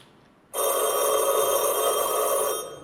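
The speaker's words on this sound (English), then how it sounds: "Hey Maggie, phone's for you" A telephone bell rings indoors, a single loud, steady metallic trill that starts abruptly and holds for about two seconds before cutting off, close and with nobody talking.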